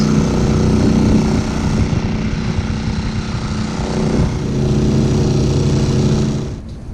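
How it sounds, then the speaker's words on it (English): A generator runs on a sailboat anchored in the Bahamas, a loud steady mechanical drone with a low humming rumble that holds throughout and eases off slightly at the very end. "Generator."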